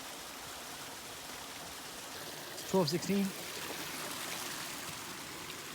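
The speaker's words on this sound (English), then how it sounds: "This is the creek right there." A creek flows steadily along a backpacking trail, a soft continuous wash of water with a brief spoken phrase cutting in over it midway.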